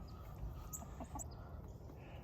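Backyard chickens, a rooster and hens, give a few soft clucks and short calls at close to middle distance over a steady low rumble, with no talk.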